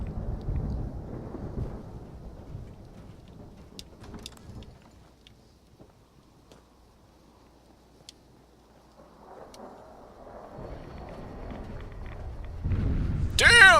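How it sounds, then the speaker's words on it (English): Rolling thunder rumbles through a rainy storm in the video game Fallout 4, swelling loud at the start, fading into near quiet, then building again to a heavy crash at the end. "I hate these storms"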